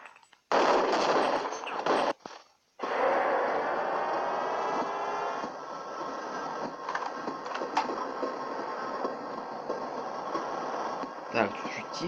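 Rapid automatic gunfire from an M-series rifle in the video game Half-Life, with loud sustained bursts and a short gap early on, continuing through most of the stretch with some faint game sounds underneath.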